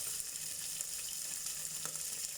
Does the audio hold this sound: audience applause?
no